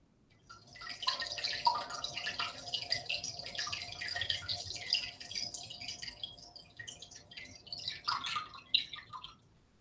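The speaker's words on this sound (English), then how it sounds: "It was a water fountain." Running water from a water fountain: a light, continuous trickle and splash with small dripping, bubbly variations, fairly close and moderately soft, heard alone without talk.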